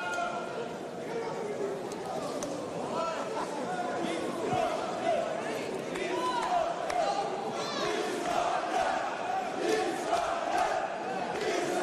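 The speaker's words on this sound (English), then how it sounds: "Uzbek chants coming from the crowd here at Techport" Dense, continuous roar of a boxing arena crowd chanting in Uzbek during a live bout at Techport, rhythmic massed voices swelling steadily under a commentator's close voice.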